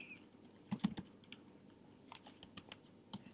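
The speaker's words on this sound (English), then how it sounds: "We type Xampp download." Quiet, scattered clicks from a computer keyboard as a search is typed, irregular taps with short pauses, faint and close.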